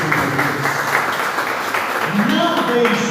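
Applause fills a church service held in a garage, a steady patter of clapping hands from the congregation with voices rising over it toward the end.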